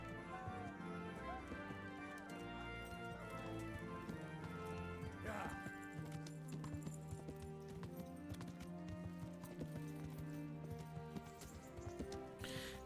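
A horse's hooves clip-clop in a steady rhythm in the medieval video game Kingdom Come: Deliverance, with game music and ambience playing underneath and a voice talking over it.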